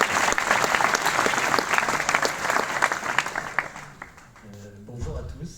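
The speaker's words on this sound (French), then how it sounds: "on peut applaudir pour Thierry" Church congregation applauding for Thierry, a crisp, lively burst of many hands clapping close by that thins out after about four seconds as a voice begins speaking.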